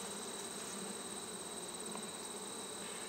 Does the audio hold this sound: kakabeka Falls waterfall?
no